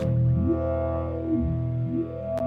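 A "musical stones" preset on a Kontakt virtual instrument: a synthesized, wavering tone with sliding, warbling pitch sweeps and a slightly distorted, psychedelic, otherworldly character, ending with a short click.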